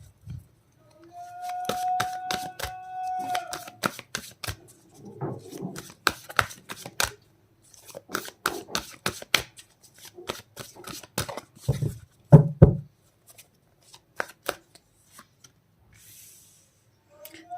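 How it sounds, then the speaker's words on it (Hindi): Tarot cards are shuffled and drawn in quick, crisp slaps and flicks, with intermittent clusters of taps and rustles near at hand and a faint tonal hum early on. "और कार्ड्स निकाल लेते हैं।"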